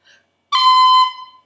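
On a tin whistle, a single note starts from the C fingering with a fast B-finger cut, then holds as a bright clear tone for about half a second, solo and close.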